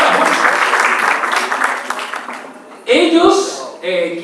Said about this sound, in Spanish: Un aplauso, por favor, a nuestros